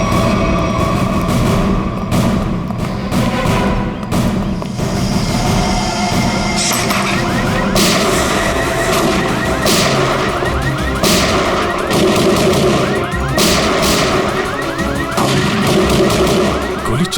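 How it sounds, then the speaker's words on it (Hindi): Rapid gunfire in a crime drama scene crackles in repeated bursts over a dense, loud backdrop of mechanical clatter and rumble, with no talking. "ये गोली कहां से चल रही?"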